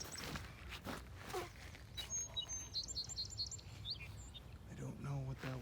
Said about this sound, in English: we have some bird activity over there.